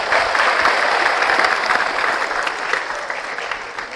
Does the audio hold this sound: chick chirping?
no